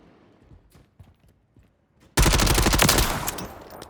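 A gun in a Call of Duty firing range lets off a sudden loud, sustained burst of rapid automatic fire, close and dense, after a couple of seconds of quiet handling sounds.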